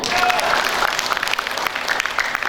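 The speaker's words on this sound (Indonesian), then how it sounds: "Tepuk tangan dulu lah." Dense, loud applause from a crowd at a political party anniversary gathering, continuous and close for a couple of seconds.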